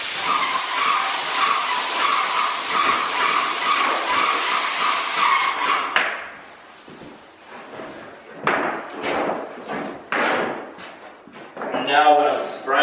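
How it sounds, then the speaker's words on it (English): A loud, steady hiss of an airless paint sprayer spraying drywall runs for several seconds, then cuts off, followed by short bursts of spraying and a voice talking. "Now when I'm spraying, keep it continual, no starting and stopping."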